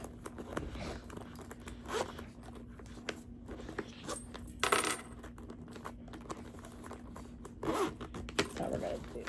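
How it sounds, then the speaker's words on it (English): A zipper being pulled closed on a handmade sewn fabric bag, a few short rasping bursts with a louder pass near the middle, heard close up over steady low room hum. "We'll finish it up with the one zipper like that."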